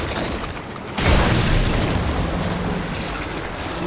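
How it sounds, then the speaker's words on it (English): Grenade blast in Resident Evil 3 Remake: a sudden loud boom about a second in, followed by a long rumbling decay that fades gradually. "I will throw a grenade at them"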